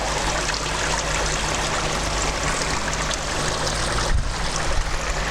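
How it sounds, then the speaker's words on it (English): Water trickles and splashes steadily through a three-tier DIY Bakki shower filter on a backyard koi pond, a continuous dense hiss of falling water with no break and no voices. "It turns back via the Bakki shower, which is a 3-tier DIY shower."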